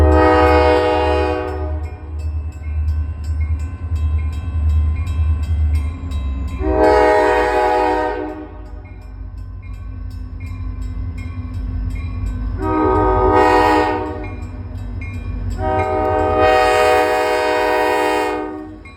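Rail locomotive set with SLR RM-1 slug 805 rumbling steadily nearby, cut by four loud, long horn blasts spaced through the recording, with no talking.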